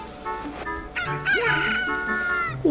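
A chicken crows in The Legend of Zelda: Ocarina of Time, a loud synthesized cock-a-doodle-doo with clucks, set against the game's steady background music.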